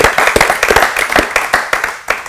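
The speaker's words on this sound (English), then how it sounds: "Let's give Matt a round of applause" A short burst of applause from a small group, close and brisk, fading slightly toward the end.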